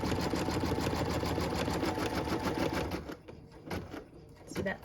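Home sewing machine stitching a long, wide cut-line stitch on fabric for a puppy's ears, a loud, rapid, steady mechanical hum and clatter for about three seconds, then stopping, followed by a few soft handling sounds.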